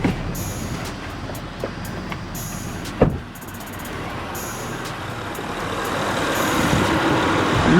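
The AC fan and radiator fan on a Honda Accord V6 LX spin together, a steady broadband whoosh that slowly grows louder, with a single sharp knock partway through and faint high ticking above.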